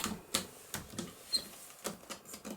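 Scissors snipping through paper for an envelope craft: several sharp, close cuts in an irregular rhythm with short quiet gaps and no talking.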